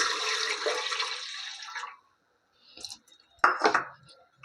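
Two bowlfuls of water poured into a pan to make sugar syrup for soft gulab jamun sweets: a steady, splashy pour for about two seconds, then a pause and a few clinks of bowl against pan.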